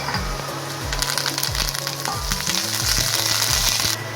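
Curry leaves and dried chillies frying in hot oil, giving a loud, continuous close-up sizzle with crackling pops and a brief stir near the end.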